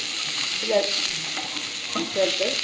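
Ingredients for a spinach chammanthi sauté in coconut oil with cumin, giving a steady close sizzle broken by a few scraping stirs.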